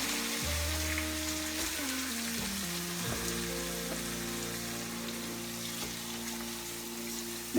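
Onions for Swiss steak fry in a pan, a close, steady crackling sizzle, fairly quiet, with no voices.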